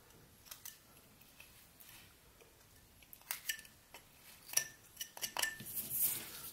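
A knife whittling a carved nose in wood, pressed in as a stop cut and then drawn back to remove the chip: quiet, close scraping and small clicks that grow into several sharper cuts toward the end.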